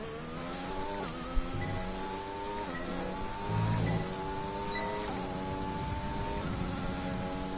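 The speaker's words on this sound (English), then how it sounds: "I need to stop revving so much." An F1 car's high-pitched engine revs and shifts through gears repeatedly in F1 2020, the whine climbing and dropping in steady cycles with a brief thump midway, sounding close and sustained with no talk.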